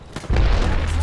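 A frag grenade going off in a video game: a deep, close boom that hits suddenly after a faint lead-in and rumbles on to the end.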